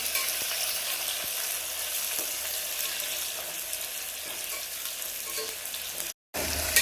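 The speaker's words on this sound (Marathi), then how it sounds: "चांगला आपण लालसर असा कांदा भाजून घेणार आहोत" Onion fries with curry leaves and mustard seeds in a pan, making a steady close sizzle with occasional stirring clicks. It cuts out abruptly near the end, then briefly resumes.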